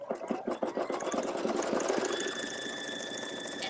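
A sewing machine triple stitching around the outer edge of an apron, running steadily with rapid rhythmic needle clatter and a rising whine, close and alone.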